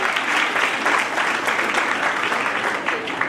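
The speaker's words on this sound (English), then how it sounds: "Please give her a huge round of applause." Warm applause from a conference audience at a college, steady dense clapping from many hands, loud and continuous throughout with no voices on top.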